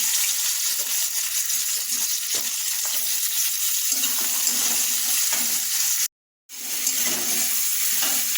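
Onions, whole garam masala and bay leaves sizzle steadily in a hot wok, a continuous close frying hiss with a brief silent gap near the end.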